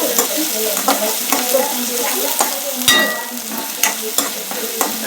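Ginger, garlic and coriander paste sizzles steadily in a hot pan, with a spatula scraping and stirring in repeated strokes through a continuous, close frying hiss.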